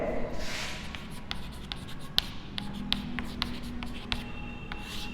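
Chalk or a marker taps and scratches across a board in short strokes over a steady background hiss during a physics lesson, moderately close and fairly quiet.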